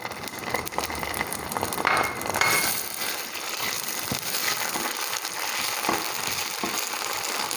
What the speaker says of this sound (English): once the oil is heated, now we will add our ginger garlic paste and the slit green chilies